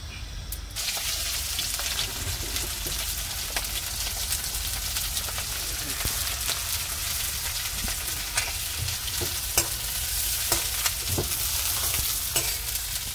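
Masala for kadhi fries in a pan with a loud, continuous sizzle and occasional stirring scrapes, close up and steady throughout with no talk.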